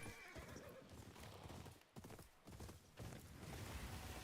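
Horse in the video game Ghost of Yotei neighing and whinnying over steady clip-clop of hooves, close and fairly loud, with a short break in the middle and game ambience underneath.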